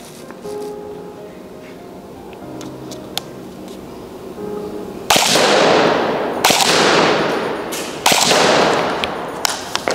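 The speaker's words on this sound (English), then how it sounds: "I'm gonna shoot at 25 meters, we're gonna fire 3 rounds, see where the accuracy is" A Lancer Tactical Battle X airsoft gun fires three rounds at a target, each a sharp, loud crack followed by a hissing tail, spaced a second or two apart. Quieter handling clicks come before the shots.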